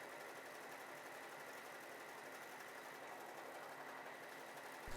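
A W6 N 1235/61 sewing machine runs a satin stitch in a steady, dense mechanical whir that holds at an even level throughout, close and continuous with no talking.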